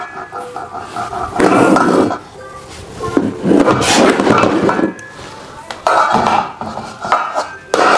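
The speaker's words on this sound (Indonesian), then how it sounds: "Seneng banget dia mainan tutup panci" A baby bangs and rattles a metal pot lid in several bursts of rapid, loud clattering, with people talking nearby between them.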